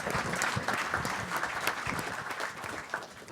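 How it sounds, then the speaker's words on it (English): Round of applause from a conference audience for a logistics industry panel, dense continuous clapping at moderate distance filling the whole stretch. "I just want to give them a round of applause"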